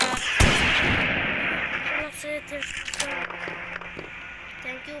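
Gunfire in the video game Granny 3: a sharp close shot at the start with a booming tail, then scattered smaller bangs and clicks, while someone talks over it.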